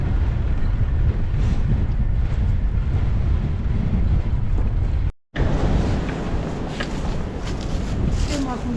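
Strong, gusty wind batters the microphone on a bike ride, roaring loudly and continuously, broken once by a brief dropout, with a voice talking over it.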